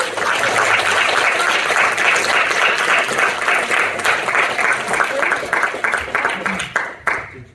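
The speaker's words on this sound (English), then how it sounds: "Can we have a huge round of applause for Bill?" A comedy society audience at a Taskmaster-style show breaks into loud, dense applause that holds steady and then thins into scattered claps before fading out.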